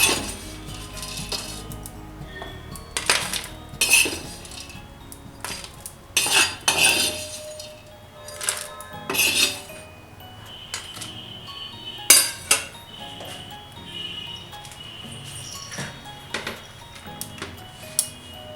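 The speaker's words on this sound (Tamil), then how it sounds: "இதையும் நம்ம வந்து ஒரு பிளேட்டில் மாற்றிக்கலாம்." Roasted cinnamon sticks are moved from a dry pan onto a plate while making Madurai-style mutton chukka masala: close, sporadic metallic clinks, scrapes and clatters of spoon against cookware, separated by quiet gaps.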